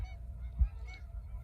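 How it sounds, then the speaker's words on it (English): Geese honking outdoors beside the Mississippi River in spring, a few faint, distant calls over a low rumble of background noise. "go the geese. They're having fun out there, making a ton of noise for me"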